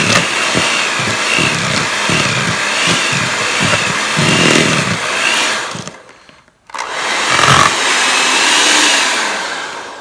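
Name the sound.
mixer mixing cookie dough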